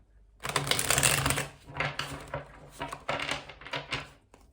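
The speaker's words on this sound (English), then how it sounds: "we will give the deck a few more shuffles" Tarot cards being shuffled in a steady run of crisp, riffling bursts, close and fairly loud, pausing briefly between rounds.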